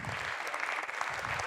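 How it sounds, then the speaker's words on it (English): A crowd claps steadily in dense, continuous applause at a game developer event, fairly loud throughout with no talking over it. "can we have a round of applause and invite him on the stage?"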